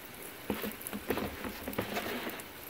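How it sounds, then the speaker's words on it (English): Bread frying on a hot BBQ grill gives off a steady, close crackling sizzle, with scattered pops and spits poking above a constant hiss. "Hear that nice sizzle?"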